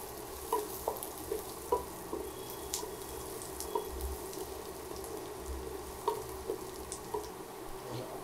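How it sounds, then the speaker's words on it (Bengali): Chopped garlic fries gently in butter with a soft, quiet sizzle, broken by regular light taps and scrapes of stirring. "রসুনগুলো ভাজা হয়ে গেছে"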